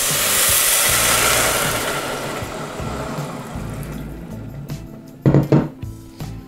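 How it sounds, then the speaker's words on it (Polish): Water poured into a hot pot of rice, cooked as a side for chicken curry: a loud burst of hissing steam that slowly dies down, followed by a few close clanks of a utensil against the pot. "Nie przestraszcie się, podczas takiego zalewania ta woda buchnie."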